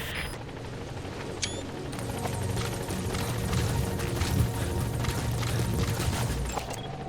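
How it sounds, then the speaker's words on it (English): A support helicopter arriving in Metal Gear Solid V, its steady rotor thrum and engine rumble holding loud and continuous throughout, with a few brief metallic clicks and game effects layered on top. "The support helicopter has arrived."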